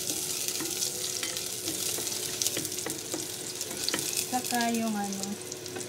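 Garlic sautéing in hot oil for a shrimp sinigang, a dense continuous sizzle with light stirring ticks, close, with a brief spoken phrase over it.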